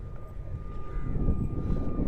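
An airplane passes overhead as a low, steady roar with a faint whine, rising slightly toward the middle, heard outdoors with some wind.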